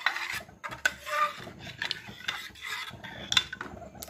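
Thick maize (corn) payasam is stirred in a pot, making rhythmic rasping scrapes of a spoon against the pot bottom, close and fairly loud, with no voices.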